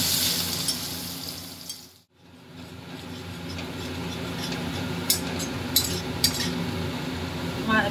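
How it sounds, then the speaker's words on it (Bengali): Chopped onions frying in a little leftover oil after fish, a steady close hiss of sizzling with a brief dropout, then a few light clinks of a utensil against the pan near the end. "প্রথমে পেঁয়াজ কুচিটা দিয়ে দেবো।"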